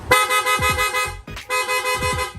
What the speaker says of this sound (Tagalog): Long press lang po natin itong horn switch. Yung busina ni sir, magsusunod-sunod na po.